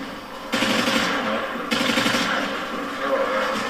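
A near-full magazine of rapid automatic gunfire in the survival game Rust comes in two loud sustained bursts, each a dense rattling string of shots.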